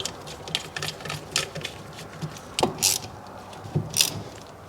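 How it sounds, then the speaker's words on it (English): A ratchet snugs Allen head bolts on a brake caliper of a 2021 Kia Telluride, producing quick clicking bursts and small metallic clinks of tools close by, with no talking. "I just want to get these started in there, and then we'll snug them with the ratchet"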